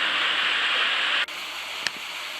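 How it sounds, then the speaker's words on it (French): A waterfall cascades into a rock pool, giving a steady rushing roar that drops sharply in level partway through and continues more softly, with no talk. "Belle cascade."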